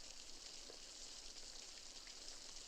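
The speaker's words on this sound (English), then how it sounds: "The rain's slacking off, Clint." Faint, steady rain falls with a soft hissing patter, a quiet continuous wash with no voices.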